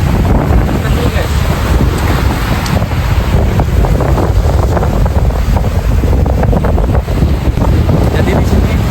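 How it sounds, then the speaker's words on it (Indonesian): Strong wind buffets the microphone in constant roaring gusts while waves churn and surge underneath on an island shore at low tide, loud and continuous throughout. "angin kuat, ombak kuat, tapi airnya surut."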